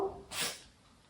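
A single sharp human sneeze bursts out close and brief, trailing into a quiet room.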